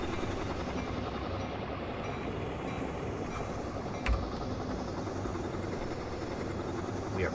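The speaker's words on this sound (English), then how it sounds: "I love walking next to a P42DC because it's hard to appreciate just how massive they are in a game." A P42DC diesel locomotive in Train Simulator 2017 runs with a steady, dense rumble and rolling rail noise, with one brief louder click midway and no voices.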